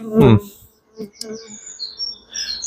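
Honeybees buzz around a frame pulled from a hive, a brief close burst at the start followed by scattered fainter buzzing and small chirpy sounds.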